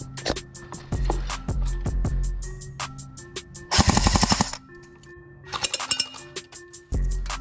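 Airsoft AK-105 firing full auto, with quick clattering bursts of rapid shots between short pauses and metallic clinks, close and loud with no speech.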